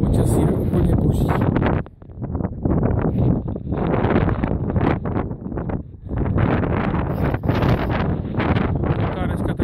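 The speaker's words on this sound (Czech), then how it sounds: "Taková dneska teda sice silný vítr." Strong wind gusts batter the microphone at a marina in Norway, giving a loud, rushing roar that briefly drops out twice before surging back, with someone talking over it.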